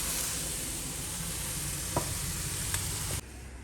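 Black pepper goes into a hot pan (kadhai) and sizzles in a close, steady, hissing fry that keeps going for several seconds before suddenly dropping off.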